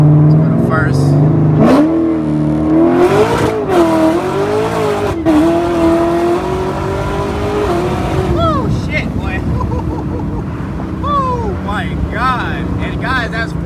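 A modified C7 Corvette with an LT4 engine accelerating hard on a freeway, heard through an open window: a loud rising engine roar climbing through the gears, with wind and road rush as speed builds.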